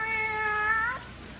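A cat gives one long, drawn-out meow that holds steady and then fades away, close and clear in a quiet room.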